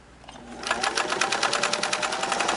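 A Singer 329K sewing machine punches through seven layers of denim, starting up and settling into a steady, rapid, rhythmic stitching chatter, close and fairly loud, with no talk.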